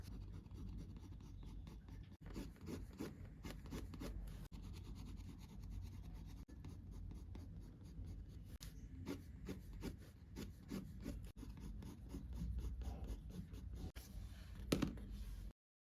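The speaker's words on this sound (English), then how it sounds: "I'm mostly testing out the pencil here." A pencil sketches on sketchbook paper in close, quiet detail, its soft scratching strokes repeating in short irregular bursts throughout.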